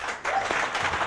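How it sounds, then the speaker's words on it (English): Studio audience at a live talk show in Masvingo breaking into applause, a brief, dense wash of clapping from a nearby crowd. "Please give yourselves a round of applause."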